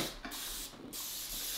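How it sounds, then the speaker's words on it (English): Cooking spray hisses from an aerosol can into a cake pan, two short bursts with a brief gap between them, close and fairly quiet. "This is cooking spray."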